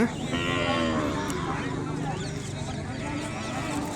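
Cattle at a weekly livestock market in Kodada, with lowing and moos mixed into a busy crowd of voices and general market noise.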